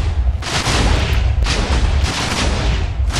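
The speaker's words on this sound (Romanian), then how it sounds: "Văd că se explozi în continuare." Rapid chains of blocky TNT blasts in a game world, loud overlapping booms and crackling bursts following one another with barely a pause, dense and continuous throughout, no talking.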